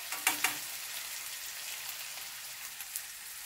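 Mushroom filling with potato, red pepper paste and tomato paste sizzles softly in a pan, with two sharp clicks of a utensil early on and a faint steady crackle after.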